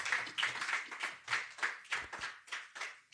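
A small church congregation clapping in steady rhythm to acclaim the Lord, about three claps per second, fairly close and without talk.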